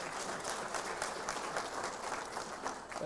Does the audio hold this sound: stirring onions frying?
no